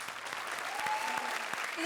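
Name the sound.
audience applause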